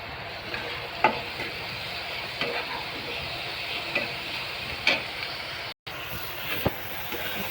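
Onion and tomato fry in a pan with a constant soft sizzle and occasional spoon scrapes and taps, fairly quiet and close, with a brief dropout near the end.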